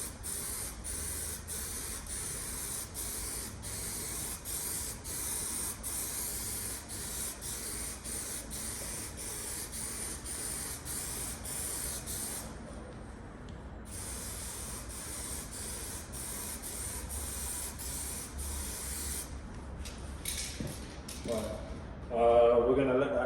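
A spray gun lays a heavier final third coat of paint on an MGB body in a cold workshop, a steady close hiss running almost without pause before cutting out near the end, where a brief clatter follows.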